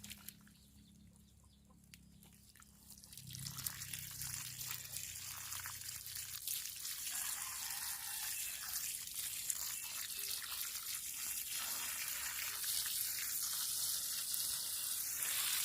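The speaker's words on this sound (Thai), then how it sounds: "ใส่น้ำฉีดไปเลยนะครับ" Hose water sprayed to wash soil off the roots of a Curcuma (krachiao mali) plant, a broad hissing spray that starts after a quiet moment and builds steadily louder, close and continuous.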